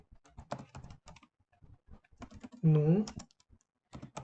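Python code being typed on a computer keyboard, with quick bursts of key clicks close by while someone speaks in Portuguese over and between them.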